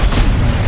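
A deep, loud boom from a car exploding after a propane tank is shot, a short heavy rumbling blast filling the whole moment.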